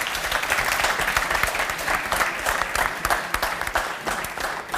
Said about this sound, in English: Big round of applause for our panel, please, ladies and gentlemen